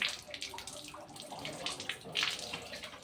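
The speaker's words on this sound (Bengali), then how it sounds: "এইবার আমি এই কলটা চালু করব। এই যে জল বেরোচ্ছে এটা দিয়ে" Tap water runs into a container while a home fish tank is being cleaned, a close, steady splashing flow with small surges and no talk.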